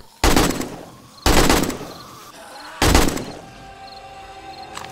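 Gunfire in the survival video game 7 Days To Die, heard while hunting a bear: three loud, sharp shots about a second apart, each leaving a decaying echo, with no talk over them.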